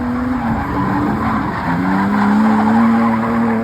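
BMW E36 316i drift car skidding on a track, a loud sustained tire squeal that wavers in pitch and then climbs and holds over a roaring engine, close by and continuous.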